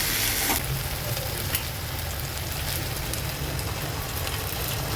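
Okra frying in a pan with onion and tomato for a spicy bhindi dish, making a loud, continuous close sizzle with a brief scrape of stirring near the start.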